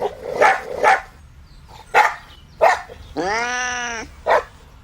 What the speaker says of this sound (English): A bark can be a fierce threat